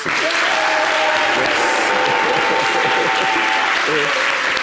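A studio audience on a French-language television comedy show breaks into loud, continuous applause, with a faint sustained tone and some voices mixed into the clapping.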